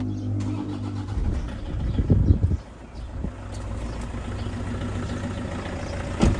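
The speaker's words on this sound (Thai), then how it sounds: "เครื่องดังนิ่มมาก ผมบอกได้เลยเครื่องดีมากเนี่ย" A Toyota Vigo pickup truck engine idles nearby with a steady, low rumble, briefly revving once before settling back down.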